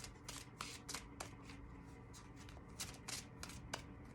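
Tarot cards being shuffled for a love reading, a steady run of soft papery riffles and flicks lasting several seconds, close and fairly quiet with no talk over it.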